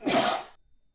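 A single short sneeze: one sharp, breathy burst up close that cuts off abruptly into near silence.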